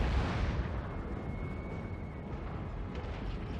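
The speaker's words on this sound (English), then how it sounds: "I could probably just cannon the shit out of those." Cannon fire from dwarf artillery in the strategy game Total War: Warhammer, a dense, sustained rumble of booming explosions that fills the whole clip at steady loudness with no voices.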